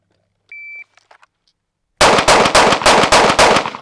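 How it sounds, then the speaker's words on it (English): After a timer beep, a handgun fires six rapid rounds at a shooting range, each shot a sharp, loud crack. The shots come in a quick, evenly spaced string. "Should get 6 rounds, good recoil control."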